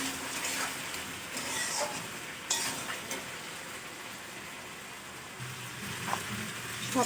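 Vegetables sizzle steadily in a pan during village-style Bengali cooking of Malabar spinach, pumpkin and potato, with a soft continuous frying hiss and occasional stirring clatters, close and moderately loud, no talking.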